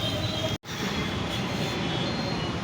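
Steady broadband rumble of a metro train at a station platform, continuous and fairly loud throughout, with a brief dropout near the start and no talking.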